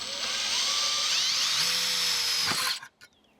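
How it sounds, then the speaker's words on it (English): A drill bit bores through a metal school bus door, a loud, sustained whine that rises in pitch as it cuts, then stops abruptly, followed by a couple of faint knocks. "I need to drill a hole about the same size in the back side of the door"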